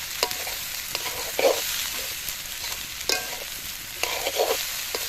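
White pushpanna rice, cooked without turmeric, is stirred and fried in a pan for a Kali Puja dish. Close, soft sizzling is broken by several sharp scraping strokes of the spoon against the pan.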